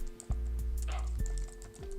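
A computer keyboard shortcut is pressed, giving a few sharp, close key clicks spaced apart over a low steady hum, with no talking.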